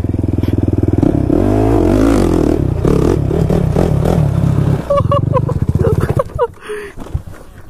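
A Kawasaki KFX 450R ATV engine revs hard and loud up close during wheelies, a rough throbbing drone that rises and falls, followed by clattering and brief voices near the end.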